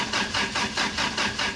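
A Toyota Hilux engine running on a wood gasifier sputters into life, its steady mid-pitched drone pulsing in a regular rhythm of surges about every 0.4 seconds, close and fairly loud with no talk over it.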